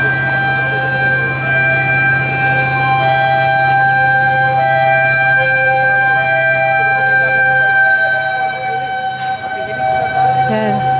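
A fire truck siren wails loud and close during a fire at NCCC Mall in Ma-a, Davao City, its steady rising-and-falling tone sounding without a break over a background of crowd murmur.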